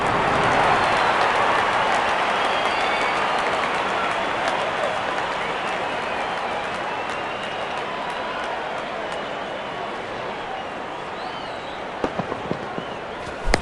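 A dense stadium crowd roar from the cricket video game Real Cricket 24 greets a six, loud and sustained before easing slightly, with a few sharp cracks near the end and commentary mixed underneath.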